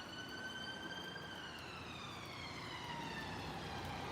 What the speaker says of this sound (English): Is it police? No, it's an ambulance. Yeah, follow the sirens. Oh, it's a police car as well.